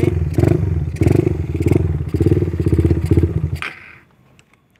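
A motorcycle ridden over rough, unfinished asphalt, its engine running loud and close with rhythmic pulsing and clattering, then cutting to near quiet at the end.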